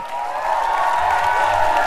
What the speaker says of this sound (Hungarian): Köszönöm szépen mindenkinek, köszönöm a tapsot.